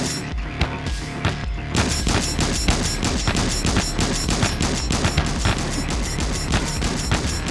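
Tank shells and heavy weapons in a riot video game fire in a dense, continuous barrage of booms and thuds, loud and rhythmic throughout with no pause.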